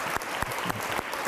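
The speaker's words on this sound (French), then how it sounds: "Alors on va l'applaudir aussi, elle." A church congregation at Sunday mass applauds with steady, dense clapping that runs through the short stretch, with a few sharper claps standing out from the wash.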